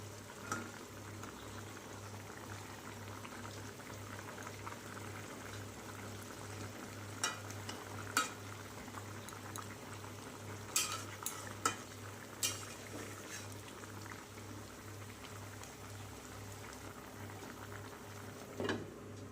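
A curry with fried eggplant boils in a pan, bubbling softly and steadily throughout, with a few sharp clinks of a utensil against the pan and a low steady hum underneath.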